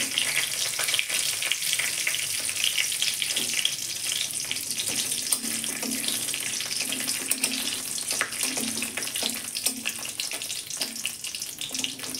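Whole spices, bay leaf, cardamom, cinnamon and cloves, sizzling in hot oil in a wok, a steady bright crackle with scattered pops running continuously without talk.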